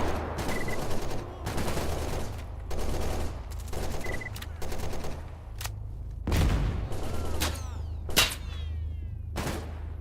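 Gunfire in the shooter game S.T.A.L.K.E.R. GAMMA: repeated loud sharp shots in bursts, with a few heavier single cracks near the end and ringing tails between them.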